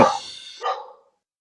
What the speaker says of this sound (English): The dog didn't like that either. Get that dog out of here.